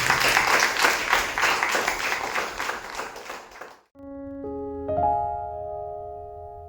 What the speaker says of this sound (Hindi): आपका उत्तम ताली केवल यीशु मसीह के लिए बजाइए